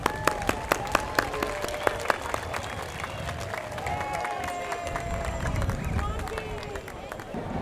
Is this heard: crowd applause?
yes